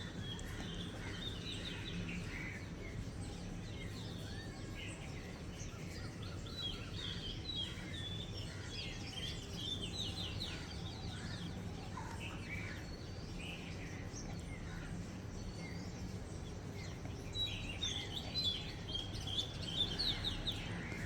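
Several different birds chirp and sing in the morning in Sri Lanka over a steady, quiet outdoor background, with overlapping calls continuing throughout.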